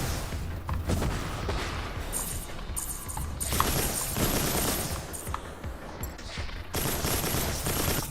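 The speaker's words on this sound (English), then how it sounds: "it's nice hearing that new Gatling sound after it sounding like a pea shooter for so long" Gatling gun fire in the game Mass Builder, rapid dense bursts of rattling shots in several long stretches with brief lulls between, moderately loud and continuous.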